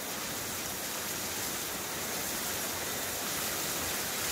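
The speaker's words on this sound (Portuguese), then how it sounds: "Passar a amora de novo na água aqui." Running water pours steadily over blackberries being rinsed for homemade jam, a continuous even hiss with no breaks and no voices.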